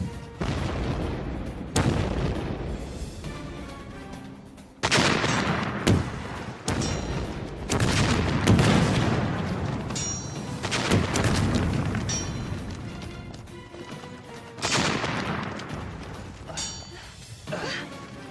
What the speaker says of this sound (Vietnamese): Tiếp tục nổ pháo.